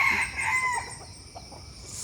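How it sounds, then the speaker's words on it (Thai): A flock of many chickens clucking, with a rooster crowing over them, fairly close and steady through the short stretch, with no talking. "โอ้ไก่เยอะเหรอ"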